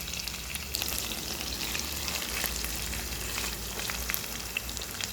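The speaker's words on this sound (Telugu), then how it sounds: "చక్కగా కొంచెం వేగనిద్దాం. ఉల్లిపాయ" Green chillies and onion fry in a pan for a bottle gourd pulusu, giving a steady crackling sizzle with fine popping throughout, close but fairly quiet, and no speech.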